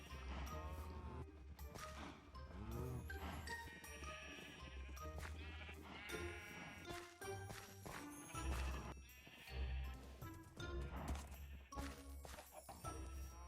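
Sheep in Minecraft bleat repeatedly in short wavering cries around a farm barn, mixed with other busy animal and game noises, fairly loud and close without any talk.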